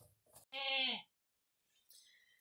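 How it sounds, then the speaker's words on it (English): Goats in a birthing pen let out one loud, drawn-out bleat close by, with a few short scuffling sounds before it and faint higher calls afterward. "The goats won't leave Evie alone, so they're just stirring everything up."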